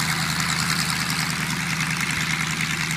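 A small plane's engine idles on the ground after landing at Crow Island, a steady, loud rumbling drone with wind-like rushing noise, no talk over it.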